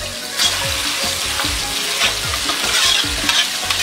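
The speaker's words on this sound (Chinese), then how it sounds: "继续煸炒" Chicken pieces stir-fried in a wok with star anise, cinnamon bark, bay leaves and fennel seed sizzle steadily under quick, rhythmic scrapes of a spatula, close and fairly loud.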